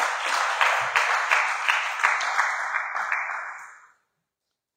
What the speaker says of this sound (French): Acclamons très fort le Seigneur.